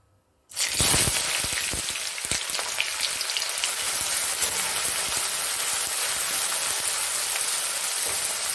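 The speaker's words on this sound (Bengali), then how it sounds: "আমি পেঁয়াজটা গোল্ডেন করে ভেজে নেব" Chopped onions frying in a pan for a hotel-style hariyali chicken dish, a loud, dense crackling sizzle that starts abruptly after a brief silence and holds steady throughout, with scattered sharper pops.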